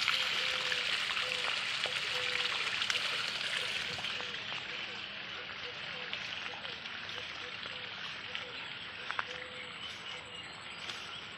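Irrigation water flows into a chilli field, a continuous rushing, splashing wash, loud and close, running without pause from start to finish.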